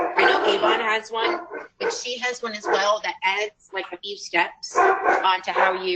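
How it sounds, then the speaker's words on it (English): Dogs bark and yip close by, mixed with whimpering, over someone talking throughout. "I'm sorry about my dogs"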